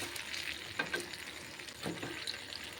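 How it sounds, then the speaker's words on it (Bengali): Ros bora, soft fritters of biulir (urad) dal batter, frying in hot oil with a steady close sizzle and occasional bubbling crackles and stirring, no voices. "আর বড়াগুলো না যখন ভাজা হচ্ছিল তেলের উপর এত সুন্দর সুন্দর ফুলে উঠেছে"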